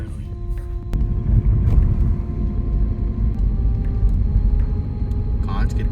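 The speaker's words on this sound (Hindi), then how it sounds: "गाड़ी आ रहा है कोई।" A vehicle approaches at night in the jungle, a low rumbling engine growing steadily and holding close and loud, with wind noise over the microphone.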